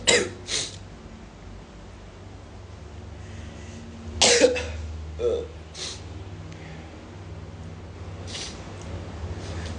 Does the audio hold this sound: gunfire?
no